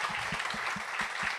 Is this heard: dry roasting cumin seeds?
no